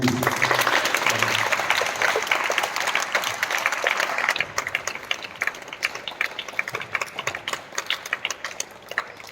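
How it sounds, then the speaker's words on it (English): Students and guests stand and applaud at a school International Day of Yoga event, a lively burst of many hands clapping that thins into scattered claps. "let's give a very big clap to"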